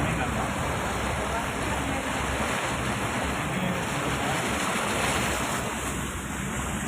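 Swift flood water rushing beside a road cut off by flooding in Aceh, a loud continuous roar of churning water mixed with wind noise on the microphone.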